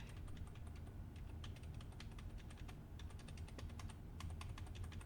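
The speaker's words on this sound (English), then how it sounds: "I'm using the less than and greater than keys to go 1 frame at a time" Computer keyboard keys tapped repeatedly to step through video frames one at a time, a steady run of quick, crisp clicks over a constant low hum of background noise.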